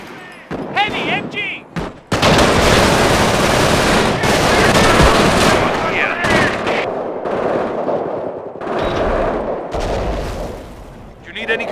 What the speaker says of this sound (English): Heavy MG!